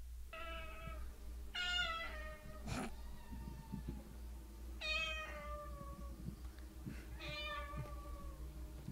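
A cat meows several times in separate rising, drawn-out calls with pauses between, close and clear over a low steady background hum.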